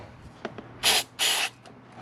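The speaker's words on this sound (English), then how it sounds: "Spray some silicone lube." Two short hissing bursts of silicone lubricant aerosol spray, close up, each under a second, separated by a brief pause amid faint handling clicks, during starter replacement on a 2007 Nissan Versa.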